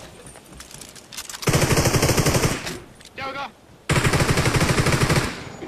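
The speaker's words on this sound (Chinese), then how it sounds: "怎么开枪了？" Bursts of automatic gunfire in the mobile battle royale game PUBG Mobile, two long rapid rattling volleys with a short gap, loud and close, while a player briefly speaks between them.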